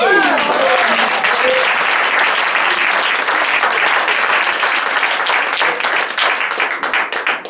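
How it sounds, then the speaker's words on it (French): An audience applauds the actors at an improv theatre workshop, with loud, dense clapping throughout, a brief whistle or cheer at the start, and the applause thinning toward the end. "On les applaudit encore une fois"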